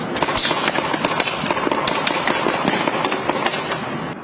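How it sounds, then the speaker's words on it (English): Police firing tear gas into a home in the Pine Hills neighborhood of Albany, heard as a rapid, irregular string of sharp pops and cracks over a noisy outdoor background, without talk. "Sounds of tear gas filling the Pine Hills neighborhood in Albany this afternoon as police appear to shoot tear gas into a home."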